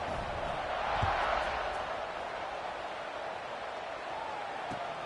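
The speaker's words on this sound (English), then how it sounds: "this crowd is buzzing after that last score" A football stadium crowd keeps up a dense, steady roar after a touchdown. The roar is loud and continuous across the whole stretch, with no one speaking clearly over it.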